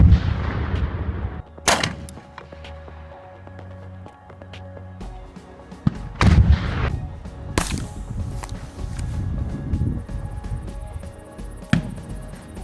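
Several sharp blasts from a TAG-35 airsoft under-barrel grenade launcher working on an ejection charge, one near 1.7 s and loud ones near 6.3 and 7.6 s, set against a busy outdoor background.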